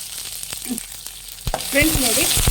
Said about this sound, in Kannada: ಚೆನ್ನಾಗಿ ಫ್ರೈ ಮಾಡಿ ಫ್ರೆಂಡ್ಸ್